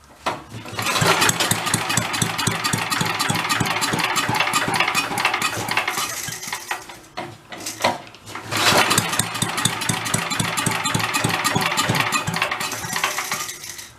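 A vintage Mite-e-Lite generator engine runs steadily and loudly up close, with a rapid even chug. It drops off briefly, then picks back up to a steady running idle.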